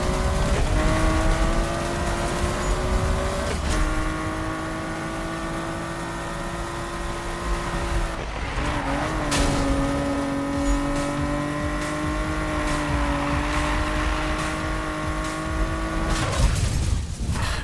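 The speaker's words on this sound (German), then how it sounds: "Das Skyline fährt sich schon gut" Nissan Skyline racing in Need for Speed 2015, its engine droning steadily and loud throughout with rising and falling pitch as it shifts gears, brief dips around gear changes and no talking.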